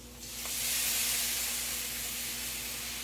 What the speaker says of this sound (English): watch how it'll steam up when you put your water in it.